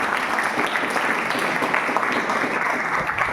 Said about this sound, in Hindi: ताली बजाइए बहुत जोर से।